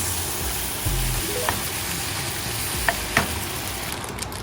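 Sauteed meatballs of minced meat tipped into a frying pan mix, a steady close sizzle with a few soft thuds and scraping stirs.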